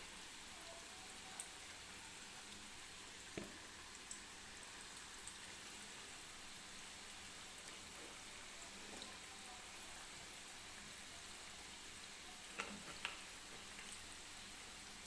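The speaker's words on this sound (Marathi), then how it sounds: "मीडियम गॅसवरती आपल्याला हे व्यवस्थित भजी तळून घ्यायचे आहेत, म्हणजे आतून सुद्धा ते व्यवस्थित तळले जातील" Mysore bonda fritters fry in hot oil over a medium flame, giving a soft, even crackle and hiss that continues throughout, fairly faint, with a few light clicks and no talking.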